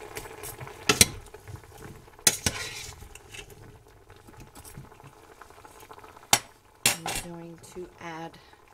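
Onions being broken up and stirred in a pot while beef and gravy are cooked for canning: sharp, scattered clanks of a utensil against the metal pot over a soft, low bubbling background.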